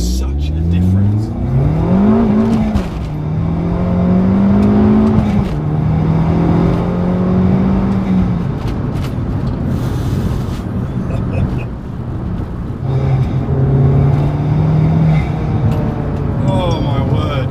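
An Abarth 595 Competizione running proper boost accelerates hard. Its loud engine note climbs steadily in pitch through the gears, with brief dips at each shift, heard close from inside the car.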